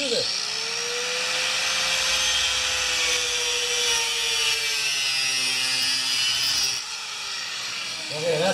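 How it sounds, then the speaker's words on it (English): An angle grinder cuts through metal in a workshop while a furnace runs, holding a steady high-pitched whine for about seven seconds before the disc briefly eases off and then bites again. "So now I'm going to just cut this off with the angle grinder."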